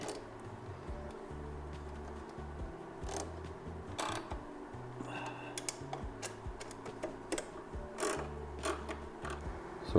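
Bolts on a JNS lowering footpeg bracket being tightened on a third-generation Kawasaki KLR, giving soft repeated ratcheting clicks and light metallic ticks close by in a quiet garage, with no talking.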